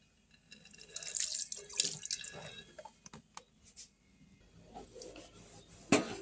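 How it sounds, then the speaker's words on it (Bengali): Tap water runs into a kitchen sink while a used cooking kadai is scrubbed, with splashing, dripping and occasional rubbing and clanks rising and falling over several seconds, ending in a louder splash. "বাসনগুলো রয়েছে বেসিনের মধ্যে, এই কড়াটা যেটা রান্না করেছি এগুলো একটু মাজবো"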